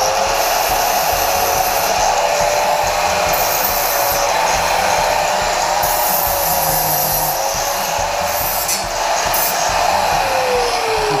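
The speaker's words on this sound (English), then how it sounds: "Like to take a grinder with a flapper disc." An angle grinder fitted with a flap disc grinds burrs and weld spatter off metal, giving a loud, steady, continuous whine with a slight pitch drift and no talk throughout.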